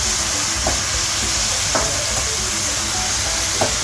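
Noodles stir-fried in a wok or pan for a Thai dish, sizzling steadily with a broad hiss, broken by a few sharp scrapes of the spatula at irregular intervals.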